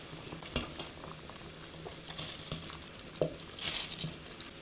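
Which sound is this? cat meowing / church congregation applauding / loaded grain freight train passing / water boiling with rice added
water boiling with rice added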